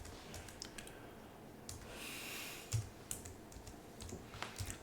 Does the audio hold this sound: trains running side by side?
no